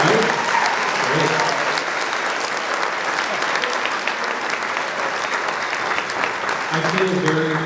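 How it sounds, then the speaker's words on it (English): An audience at a band performance applauds with sustained, dense clapping throughout, with a voice speaking over it near the end. "How about one more round of applause for our professional singers, right?"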